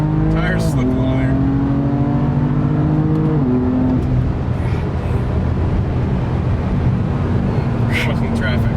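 A tuned BMW M3 accelerates hard from inside the cabin, its engine note climbing steadily through the gears with a loud, continuous roar, while a voice talks over it.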